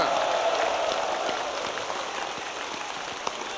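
Steady applause from a large crowd at a Malaysian political party general assembly, a dense continuous patter of clapping that holds at an even level throughout.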